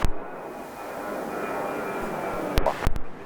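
A jet airliner at Hartsfield-Jackson Atlanta International Airport roars steadily in the distance, a broad sustained engine rumble with a faint tonal whine, briefly interrupted by a couple of close clicks and bumps near the end.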